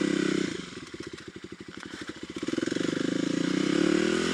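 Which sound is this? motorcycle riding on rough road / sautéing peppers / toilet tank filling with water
motorcycle riding on rough road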